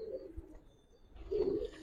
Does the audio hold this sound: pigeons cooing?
yes